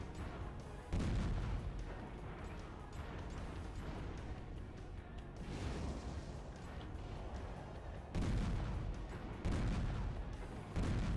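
Gunfire and booming blasts from a From Software shooter video game running on a PS3 emulator, loud and dense across the whole stretch, with heavier low thumps at intervals over a steady rumbling din.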